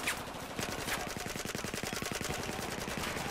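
Rapid automatic gunfire from the shooter Battlefield 4, a dense unbroken rattle of shots running the whole stretch, loud and close with a gritty game-audio edge.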